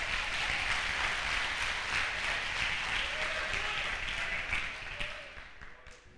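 A church congregation applauding, a dense, steady roomful of clapping that fades toward the end.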